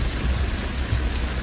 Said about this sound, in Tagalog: Ang lakas ng ulan. Para talagang bagyo.